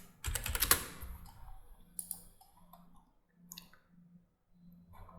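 Keystrokes on a computer keyboard while entering a workshop rent category into garage management software, starting with a dense burst of clicks and then sparse taps over a low background hum.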